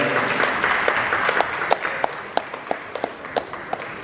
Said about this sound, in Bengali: জোরে হাততালি সবার জন্য।